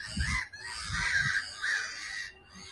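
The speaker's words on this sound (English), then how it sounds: "very noisy gulls." Noisy gulls call repeatedly in Bruges, a series of loud, harsh cries in quick bursts close by, with no talking.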